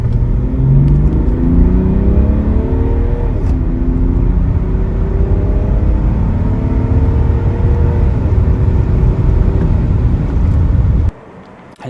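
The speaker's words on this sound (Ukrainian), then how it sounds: "Газ в пол." A BMW 535d E60 diesel saloon pulls hard at full throttle, its engine note climbing steadily through the gears with a loud, continuous roar that cuts off abruptly near the end.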